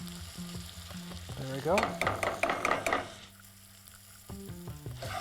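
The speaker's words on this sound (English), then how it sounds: "you're just waiting for the garlic to get a bit fragrant" Garlic and grated ginger fry in a pan for a Mumbai street food dish, giving a steady sizzle that rises with bursts of stirring and scraping in the middle. A brief voice speaks near the start.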